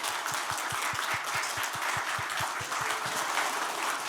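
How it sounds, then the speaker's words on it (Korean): Steady audience applause fills a packed book concert hall as the mayor of Seosan is introduced, dense clapping throughout with a few distinct louder claps near the front, no talking over it. "큰 박수 부탁드리겠습니다."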